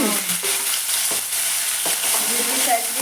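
Curry leaves crackle and sizzle in hot oil for a home tempering while a sambar simmers, giving a steady close fry hiss with several sharp pops and a few stirring scrapes.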